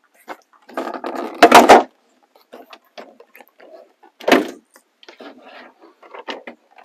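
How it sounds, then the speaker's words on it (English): Plastic door trim panel on a Chevy Silverado pickup being lifted off the door: a few sharp clacks and rattles, one loud burst early and another midway, with quiet fiddling between. "And now we should be able to lift up the door."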